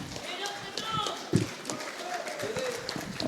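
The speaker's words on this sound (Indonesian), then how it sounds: "kita beri standing applause untuk berdiri dulu semua" An audience at an association's leadership election gives a standing ovation, a steady wash of clapping and crowd noise under a voice talking over it.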